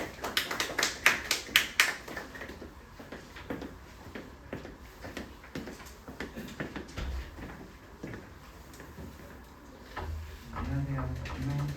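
An audience at a school admissions information session gives a short burst of clapping that thins out into scattered claps, with low murmuring and room noise at the end.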